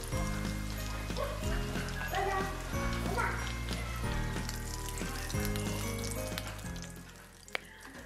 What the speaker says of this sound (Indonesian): Gorengnya nggak usah terlalu kering, karena nanti akan keras.